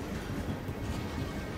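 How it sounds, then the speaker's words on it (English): In-game train rumbling through a tunnel in the video game Assassin's Creed Unity, a steady dense low roar with rattling, loud and continuous throughout with no talk. "Why is a train going through here?"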